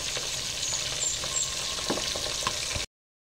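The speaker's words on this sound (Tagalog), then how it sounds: "Ayan, naririnig nyo po yung ilansik ng mantika." Hot cooking oil spatters and sizzles around fish frying in a pan, a dense, steady crackle with small pops, heard up close with no voices until it cuts off abruptly.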